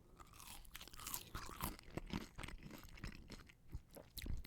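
Crisp, close crunching and chewing of a Burger King french fry, a run of irregular bites and chews with quiet moments between, no talking.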